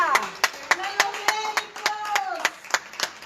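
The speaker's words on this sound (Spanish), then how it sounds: "Vamos a ver cómo están aplaudiendo desde los balcones." People on balconies in Spain clap their hands for doctors, a scattered round of applause with distinct, fairly close claps, heard along with a voice singing or talking over it.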